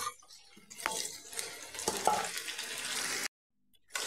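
Pumpkin pieces are stirred into lightly fried potatoes with salt and turmeric in a pan, giving a soft sizzle and spatula scraping at moderate loudness that cuts off into a short silence near the end.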